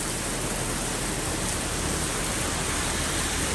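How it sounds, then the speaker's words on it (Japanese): Heavy rain downpour pounding steadily during a stop for a tire change on a BMW S1000RR motorcycle, a dense, unbroken roar that stays loud and constant throughout with no pauses. "すげえ雨。"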